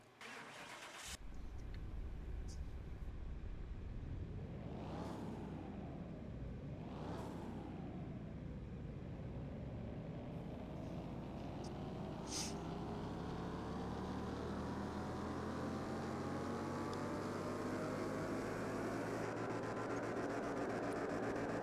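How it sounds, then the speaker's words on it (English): A Volkswagen Golf R engine with bolt-on upgrades, heard in the Car Mechanic Simulator 2021 game, starts and revs twice, then pulls in one long, steadily rising wide-open run on a dyno. The sound is loud and continuous. "We're going to see how much power it makes on the dyno with just these bolt-ons"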